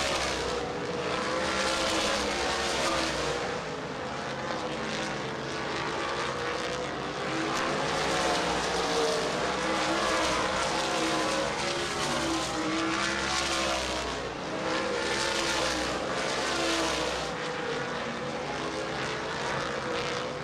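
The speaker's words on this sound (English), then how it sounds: "Top 4 cars running away with this one is John Turnbull" At Dixie Motor Speedway's dirt oval, sprint cars race past in a continuous loud roar, with engine noise swelling and fading in repeated waves as the pack circles the track.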